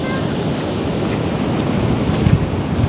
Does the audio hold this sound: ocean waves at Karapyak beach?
yes